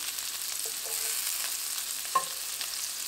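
Albondigas meatballs brown in hot oil in a frying pan, giving a steady close sizzle with a few light clinks and pops, no voices.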